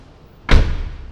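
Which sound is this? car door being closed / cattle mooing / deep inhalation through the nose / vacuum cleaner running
car door being closed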